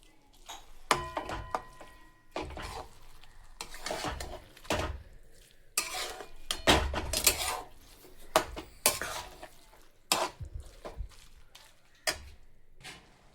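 Carrot halwa with milk is stirred in a pan, giving irregular metallic clanks and scrapes of a spoon against the pan at close range, with quieter gaps between bursts.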